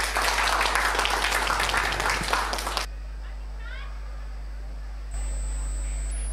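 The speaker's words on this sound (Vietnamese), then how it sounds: "Một tràng pháo tay thật lớn cho nữ nghệ sĩ Bình Tinh." An audience at Pháp Bửu temple in Hóc Môn applauds a female performer with a dense, loud wash of clapping that cuts off after about three seconds, leaving a quiet hum.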